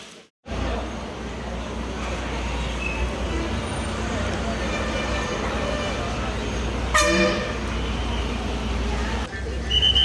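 A TNSTC bus pulls away from Nagercoil toward Pamba with a steady, loud engine and road rumble inside the cabin and a short horn toot partway through.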